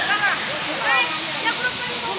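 Kapildhara waterfall, with its water running low, gives a steady broadband rush and hiss that fills the whole clip at even loudness, with a voice speaking faintly over it.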